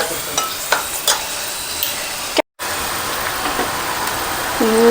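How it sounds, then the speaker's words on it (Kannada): Raisins, cashews and almonds are roasted in a pan, with a steady close sizzle and a few light stirring taps and scrapes, briefly cut off midway. "ದ್ರಾಕ್ಷಿ, ಗೋಡಂಬಿ, ಬಾದಾಮಿ ಮೂರನ್ನು ಒಂದು ಸ್ವಲ್ಪ ಹುರಿದಿಟ್ಕೊಂಬಿಡೋಣ ಅದು ಬೇಯೋ ತನಕ."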